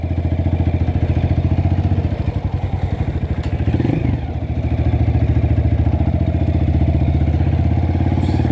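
A Honda CRF 230 motorcycle with a badly worn, slipping clutch revs loud and close as it struggles to climb a hill, the engine note steady apart from a brief dip midway.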